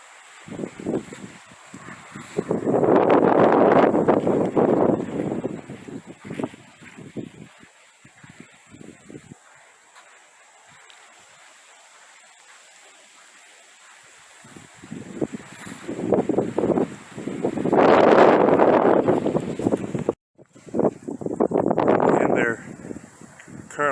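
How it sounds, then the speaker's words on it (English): Gusts of wind sweep across an exposed, unprotected stretch of Pleasure House Point Natural Area, buffeting the microphone in loud rumbling bursts separated by calmer lulls. "the wind is more impactful here."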